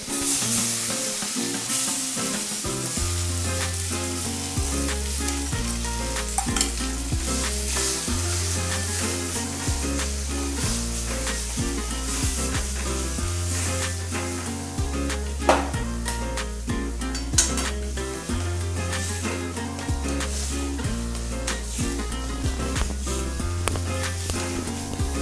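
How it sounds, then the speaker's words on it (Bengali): Sweet potato frying in hot oil with turmeric and grated ginger in a wok, a continuous loud sizzle with stirring scrapes, while steady rhythmic background music plays underneath throughout. "আলুটা কড়াইয়ের মধ্যে দিয়ে নিচ্ছি।"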